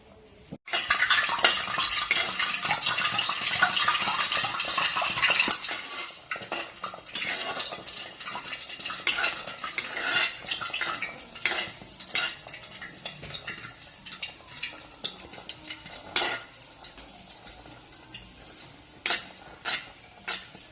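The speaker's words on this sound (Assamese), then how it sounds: "এয়া মই প্ৰথম লাডুটো ভাজি হ'ল" Lal mohan laddus fry in a pan, a brief burst of bubbling sizzle at first, then repeated clinks and scrapes of a ladle against the pan, close and uneven, with no talking.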